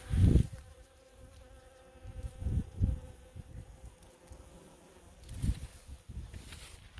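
Bees buzz outdoors beside a country road near Culross, Fife, collecting pollen; a steady insect drone with several louder buzzes as individual bees pass close by, and no talking.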